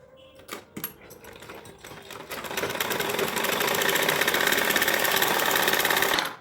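A sewing machine runs a lining seam on an Anarkali gown made from an old sari, starting with a few hesitant stitches, then settling into a fast, steady mechanical whir that builds in loudness before stopping abruptly.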